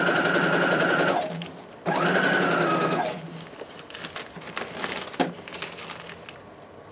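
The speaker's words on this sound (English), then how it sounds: "I'm just using a straight stitch. I'm going to use a quarter inch seam." A sewing machine running a straight stitch with a quarter-inch seam on fabric for a basket, two loud whirring bursts about a second long each, then quieter handling noises and a brief exclamation.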